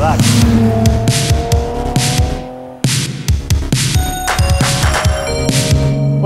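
Volkswagen Golf Cabrio with a VR6 engine, heard loud and close while driving, with a throbbing six-cylinder note that rises through the revs, drops off sharply at a gear change and then climbs again.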